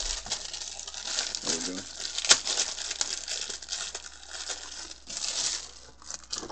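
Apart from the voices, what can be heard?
Super Famicom controller pulled out of plastic packaging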